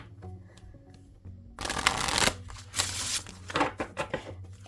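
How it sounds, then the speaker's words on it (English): Large, very bendy tarot cards being riffle-shuffled by hand, a quiet low hum at first, then a burst of rapid fluttering card slaps followed by several shorter shuffling rustles, close and fairly loud. "so one more shuffle here."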